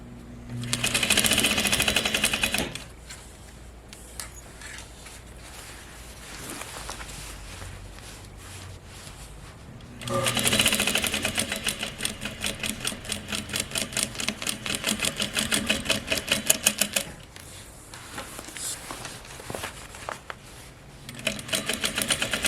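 A sewing machine stitches a pants hem in two long bursts of fast, steady rattling, loud and close, separated by a quieter stretch where it slows or pauses.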